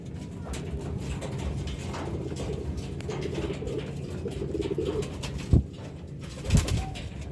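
Soft, steady cooing of pigeons runs through the clip over a low background hum, with a couple of brief louder knocks near the end.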